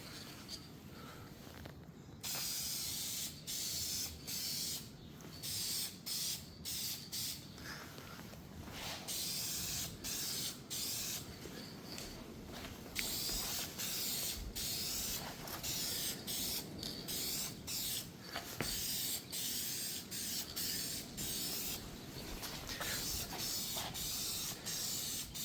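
An aerosol can sprays gloss black plastic paint onto 1971 Chevelle plastic and vinyl parts, a soft hiss in repeated short passes with brief gaps, fairly quiet and close.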